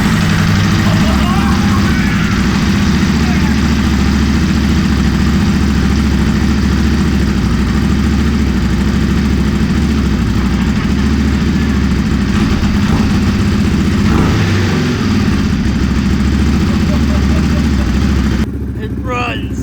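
A 2014 Ducati Hypermotard 821 motorcycle engine runs steadily at idle for nearly twenty seconds, a loud, continuous low throb that cuts off abruptly near the end.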